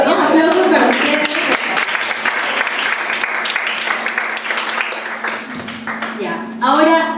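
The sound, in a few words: audience applause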